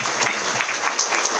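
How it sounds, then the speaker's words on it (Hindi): Audience applause at a talk on IMC in Ranchi: steady, dense clapping from a crowd, fairly loud and continuous throughout, with no speech over it. "मैं चाहता हूं एक जोरदार तालियां उनके लिए।"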